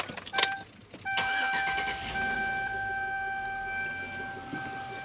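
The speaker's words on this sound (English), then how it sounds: "The idle finally figured itself out. It's running nice and smooth." A car engine starts after a few clicks and settles into a smooth, steady idle close by, with a faint electronic whine running over the engine hum.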